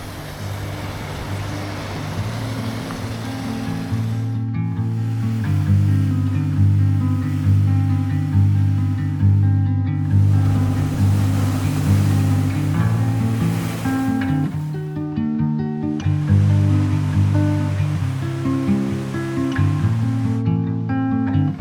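Ocean waves at high tide on Secret Beach along the Oregon coast: steady, loud surf with rolling crashes and a continuous roar, swelling and easing over about twenty seconds with no voices.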